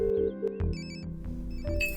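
A telephone rings in a Hindi-dubbed South Indian romantic action film, a short electronic ringtone pattern over the scene's background music, with no talk.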